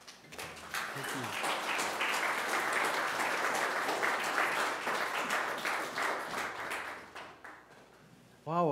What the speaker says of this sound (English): Wow, applause just for showing up.